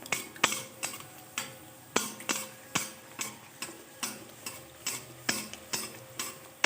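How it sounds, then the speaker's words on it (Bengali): A pea-stuffed kochuri fries in hot oil in a kadai, a steady sizzle broken by regular sharp clicks as the oil is spooned or stirred, close and alone. "আর একটা এখানে ভাজছি।"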